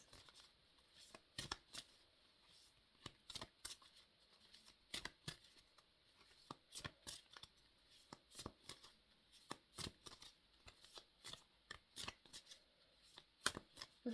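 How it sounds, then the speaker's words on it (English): Tarot cards being shuffled by hand make a long run of quiet, rapid riffling clicks and slaps, steady and repetitive, close by. "I feel like this is the longest I've ever shuffled."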